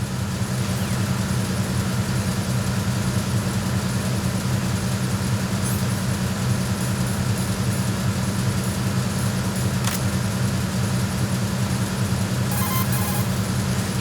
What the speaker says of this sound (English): The engine noise is pretty loud, but that means the enemy's hearing will be hampered too.